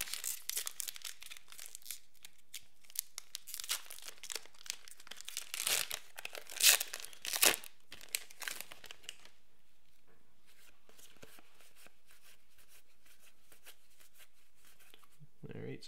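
Crinkly plastic wrappers of Magic: The Gathering M14 booster packs being torn open and handled, a busy rustling stretch that fades out to near silence after about nine seconds.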